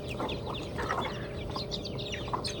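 Hen kept as a mother hen at a rural Thai home with mountains, clucking repeatedly in short soft bursts over steady farmyard background noise, with other fowl sounds around.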